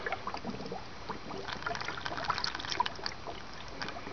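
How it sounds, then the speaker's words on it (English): Air bubbles up through coolant in a Toyota Prius inverter cooling system, making a faint, continuous gurgling and trickling with small irregular pops and plinks. "here's some air bubbling up"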